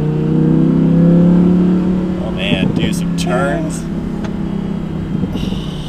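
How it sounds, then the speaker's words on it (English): An Audi R8 RWS V10 revs hard, its exhaust drone loud and rising early on, then easing into a lower hum with a few pops while someone speaks over it. "You hear that exhaust? We're already getting a little bit of pops on the exhaust."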